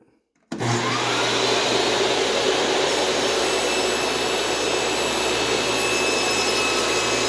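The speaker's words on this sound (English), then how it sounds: "Then you just throw that on the table saw and let it rip." A table saw spins up sharply and then cuts through a board for a picture ledge shelf, making a loud, steady roaring whine that runs without a break after a brief quiet start.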